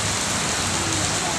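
Heavy rain in Santo Tomas, Batangas, pours down in a dense, steady roar that continues unbroken throughout, loud and close.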